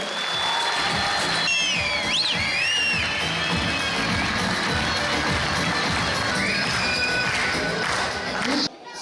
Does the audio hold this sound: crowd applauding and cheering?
yes